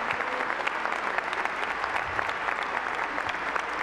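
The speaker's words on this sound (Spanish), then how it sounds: "Vamos a darles también a todos ellos un aplauso de agradecimiento." Congregation at a Catholic Mass applauding the priests in thanks, dense continuous clapping filling the church.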